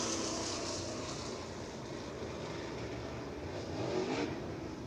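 Race cars rolling off at I-75 Raceway during Spring Nationals, a steady engine drone from the field with a slight swell of revving near the end, heard at a distance with no talk.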